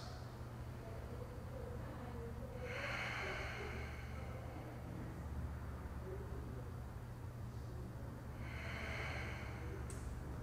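Slow, audible breaths during a standing yoga flow with a forward fold, two long airy exhales about six seconds apart, close and soft over a steady low hum.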